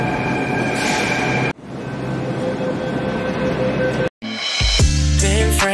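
A metro train runs on its line, a loud steady rumble and rattle broken by two brief dropouts, ending with rising squeals and tones as it slows, with no talk.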